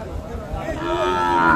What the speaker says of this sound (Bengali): প্রতি শুক্র এবং সোমবার এখানে অনেক বড় গরু ছাগল হাট বসে